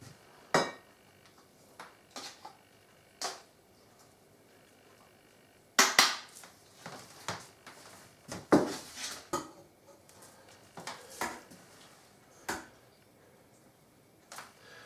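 Kitchen utensils clink and scrape against pans and plates while dishing up spaghetti bolognese, a series of scattered sharp taps and clatters at irregular intervals, close and moderately loud.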